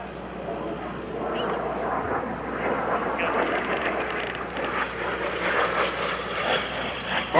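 A steady roar of an L-39 Albatross jet overhead at an air show, broad and constant, swelling slightly over several seconds.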